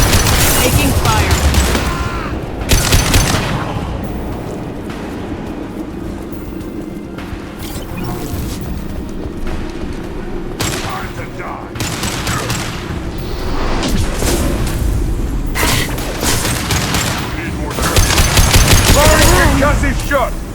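Sustained gunfire from Mass Effect 2 on PC, rapid automatic bursts and heavy booms layered over a thick battle din, with brief lulls between loud volleys and voices calling out amid the combat.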